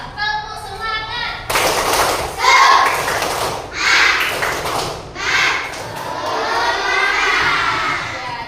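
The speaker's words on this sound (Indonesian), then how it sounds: "Coba tepuk semangat." Classroom of children doing a rhythmic spirit clap, bursts of clapping and shouting in a patterned beat, loud and lively, with children's voices chanting along.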